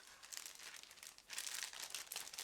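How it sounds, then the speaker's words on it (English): A resealable plastic bag holding ICM 1/32 Bu131A model kit parts crinkles and rustles close up as it is pulled open, two bursts of crisp crackling with a brief pause between them. "This is a resealable plastic bag, so I'm going to open it."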